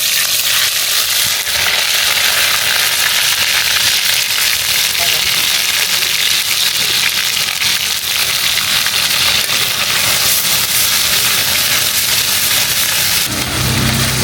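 Onion paste fries in a pan for a village-style red country chicken curry, a loud, continuous sizzle that fills the whole stretch without letting up.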